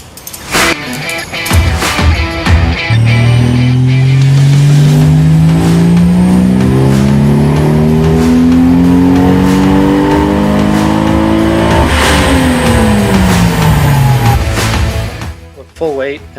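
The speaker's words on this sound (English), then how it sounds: "After the new clutch was installed, the car went back to the dyno to get some accurate numbers" A powerful turbocharged 1300 hp Toyota Supra engine revs hard on a dyno and climbs steadily in pitch, holding a loud, rising whine before backing off and falling quiet at the end.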